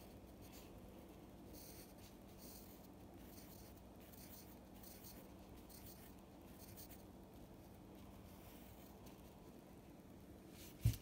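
A pen scratches steadily across paper while sketching, a soft continuous rubbing with faint repeated strokes, quiet and close, ending in a brief knock.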